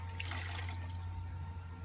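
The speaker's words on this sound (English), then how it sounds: "I'm just gonna soak it a little bit more because the windows are extra dirty." Cleaning cloth soaked in a bucket of water, soft sloshing and dripping close by over a low steady hum, with no talking.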